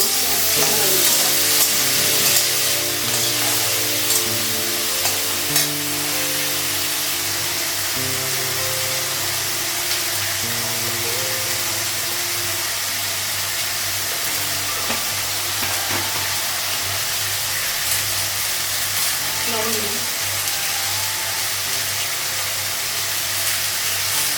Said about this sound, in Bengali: পটলটা আলাদা করে ভাজলে ভাজলাম